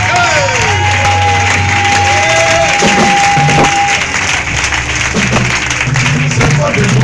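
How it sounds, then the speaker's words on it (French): A church congregation applauds and cheers, dense clapping and crowd voices filling the room loudly and steadily throughout, with a sustained tone and scattered shouts rising over the noise. "Est-ce qu'on peut acclamer celui qui nous a donné la délivrance?"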